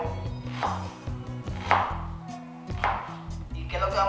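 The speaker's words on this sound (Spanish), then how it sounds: "Vamos a proceder a picar todos los ingredientes de nuevo." Knife strikes chop juice ingredients on a cutting board in a steady series of about five sharp, close thumps spaced roughly a second apart.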